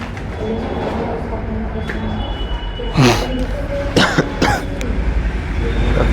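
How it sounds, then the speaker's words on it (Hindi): A few sharp coughs burst out in the middle of a steady background rumble, clustered together and fairly close. "खांसी तो मेरे रुक रहा है।"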